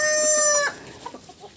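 Broiler chickens give a loud, drawn-out crowing call, then a scattering of softer, brief clucks from the flock.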